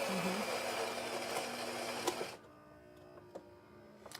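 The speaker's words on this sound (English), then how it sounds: "Can you hear that grinder running?" A steady, broadband mechanical whir of a Gaggia Anima espresso machine's adjustable burr grinder runs for about two seconds, then cuts off, leaving a quiet room with a few faint clicks.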